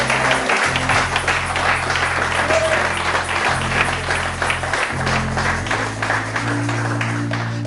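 A church congregation bursts into loud sustained applause and cheering for Jesus during a worship service, a dense roar of clapping under a low sustained organ or keyboard chord, with a voice speaking briefly over it.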